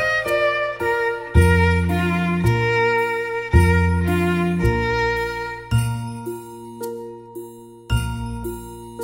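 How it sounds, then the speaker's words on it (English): Bell-like chimes play the tune of the nursery rhyme 'Are You Sleeping, Brother Jack', ringing clear melodic tones over a low sustained accompaniment, each struck note decaying with no voices. "Morning bells are ringing, ding, dang, dong"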